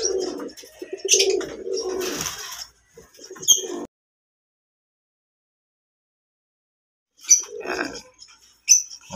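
Fancy pigeons coo softly and close by in several short bursts. A long quiet gap falls in the middle, and a few more coos come near the end.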